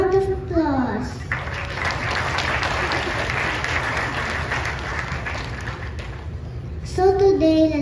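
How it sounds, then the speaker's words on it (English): Audience at a school moving up ceremony applauding for teachers and parents, a sustained burst of clapping between a child's spoken lines at the beginning and end. "Let's give them a big round of applause"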